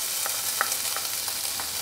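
Chopped garlic and ginger frying in hot oil for Himachali-style bottle gourd kofta, a steady bright sizzle with soft stirring clicks at a regular pace, close and moderate, with no talking.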